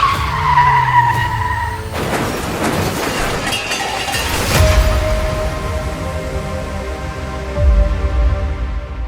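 A car skids on a road with a squeal of tires, followed by a jolting impact as it strikes a pedestrian walking at the roadside, with engine rumble and clattering noise continuing afterward.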